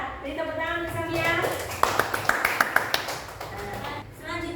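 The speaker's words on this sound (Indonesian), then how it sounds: "Beri tepuk tangan untuk Safia." A classroom of pupils gives a short burst of clapping for a classmate, brief and moderately close, sandwiched between a teacher's speech before and after.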